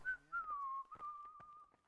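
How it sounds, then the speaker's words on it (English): Whistled tune in the Kingdom Come: Deliverance video game, a single clear melodic whistle gliding and wavering over about two seconds, close and alone with no talk. "Hey, whistling is allowed."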